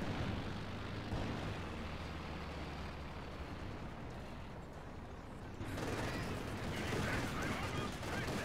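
Gunfire and battle noise from the real-time strategy game Company of Heroes 2 rumble as a dense, continuous wash, with a sharper burst of shots near the end.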